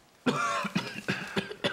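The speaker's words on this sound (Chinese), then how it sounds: "咳嗽老不停" Repeated coughing from a person, a run of five harsh coughs in quick succession, close and loud with no talk.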